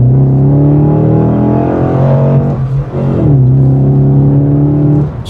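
A Holden VF SS Walkinshaw Enhanced 315kW Commodore accelerates along a backstreet, its loud V8 note rising in pitch, dipping at a gear change around the midpoint, then climbing again, heard from inside with no talking.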